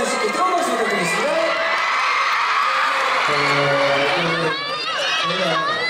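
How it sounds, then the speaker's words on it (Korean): Fans at the 2016 Asia Artist Awards ceremony shout and cheer continuously in high, excited voices, a dense crowd roar with shrieks rising over it. "다시 한번 엑소와 유나 씨께 큰 박수 부탁드리겠습니다."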